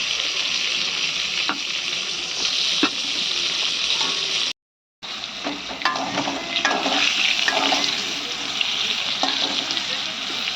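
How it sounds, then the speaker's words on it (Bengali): Pointed gourd frying in a pan, a loud continuous sizzle with crackling and stirring scrapes, briefly cut off near the middle before resuming. "ততক্ষণে পটলটা ভাজতে শুরু করে দিয়েছে।"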